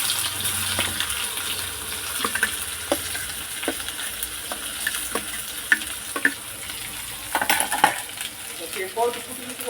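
Onion sautéing in hot oil with cumin, mustard seeds and curry leaves in a pan, a steady close sizzle broken by repeated scrapes and clinks of a stirring spoon, with no voices.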